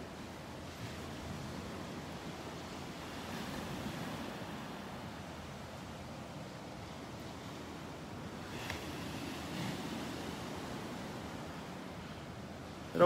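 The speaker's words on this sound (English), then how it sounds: "Some nice little waves breaking on the sandbar here." Small waves break on a sandbar along a beach in North Naples, Florida, giving a steady, soft wash of surf with a light breezy hiss and no talking.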